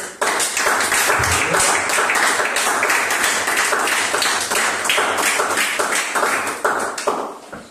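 A church congregation applauds after a Sunday sermon, sustained dense clapping from many hands, loud and continuous for several seconds before tapering slightly at the end.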